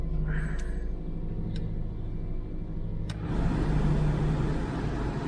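A car that has sat unused through the winter idles with a steady low engine hum, a few clicks and knocks, then the engine note rises and grows louder and rougher toward the end.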